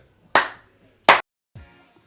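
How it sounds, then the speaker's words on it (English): Two sharp, close hand claps about three quarters of a second apart open a whisky podcast, followed by a brief softer sound. "Clap us in."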